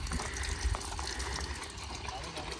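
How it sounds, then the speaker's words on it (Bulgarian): Water runs steadily from an outdoor tap at a reservoir fishing spot while hands are washed with soap. The rushing is even and close, with a voice faintly present. "Чиста вода, сапунче."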